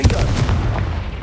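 A Confringo spell blasts in Hogwarts Legacy with a single loud, close booming burst that fades quickly, with no talking.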